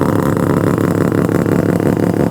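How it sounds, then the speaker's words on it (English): A loud engine of a Japanese-market Mazda RX-7 sports car runs nearby with a rough, throbbing low rumble and steady idle, filling the clip without any talking. "This car's freaking loud."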